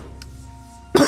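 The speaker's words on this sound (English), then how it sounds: "After I cough." A short, abrupt cough bursts out at the end after a near-silent stretch with low hum, close to the microphone, during a Dead Cells gaming session.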